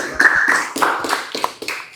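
Students in a classroom give a short round of applause after a group presentation. The clapping is brief and scattered, with a few pairs of hands tapping close by.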